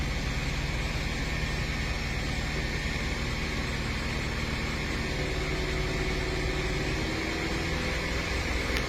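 Steady engine drone from a Mini Cooper S held at about 2000 RPM, the car showing a lean bank 1 fault; a constant, fairly loud hum and broadband noise runs unbroken throughout with no talk.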